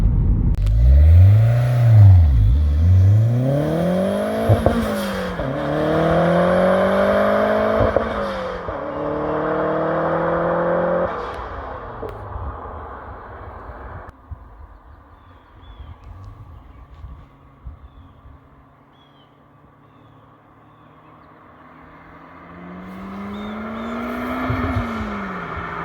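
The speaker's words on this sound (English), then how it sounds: "you just saw some pulls on the back road here" A Gen 4 Toyota MR2 with a turbocharged 3SGTE engine pulls hard on a quiet back road, loud rising engine sweeps climbing through several gears with brief shift breaks, then easing off to a low cruise before revving up again.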